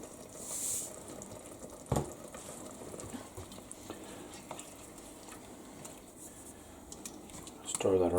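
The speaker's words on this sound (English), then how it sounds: "Stir that around a bit, get it cooking off." Black pepper, red pepper and salt being stirred in a pan for a Southern con queso cheese dip, a soft scraping and gentle sizzle with a couple of utensil clinks on the pan, close by.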